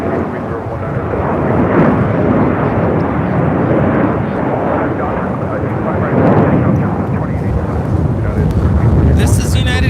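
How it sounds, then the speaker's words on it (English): A United Airlines Boeing 757-200 takes off for Newark at LAX, its engines a loud, sustained broadband roar that swells and holds steady for the whole stretch, with no talk over it. "This is United Airlines 1331 taking off to Newark on a 757-200."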